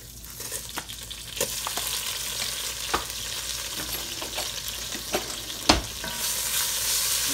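Garlic hits a hot pot of browning oxtail for stew, a dense continuous sizzle with intermittent scraping and stirring knocks, one sharper clatter near the end, close and steady without speech.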